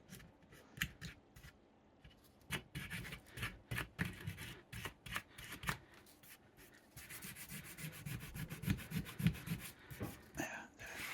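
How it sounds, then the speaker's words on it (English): Masking material being scratched and scraped off a Star Wars cosplay backpack: quiet, busy rubbing and scratching strokes in quick irregular bursts, growing denser and harsher toward the end. "I'm kind of having to scratch and scrape"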